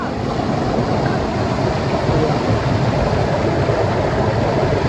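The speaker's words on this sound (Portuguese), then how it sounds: "ó a cachoeira, que legal" Rushing water roars steadily close by, a loud unbroken churning wash like a waterfall, with no talking.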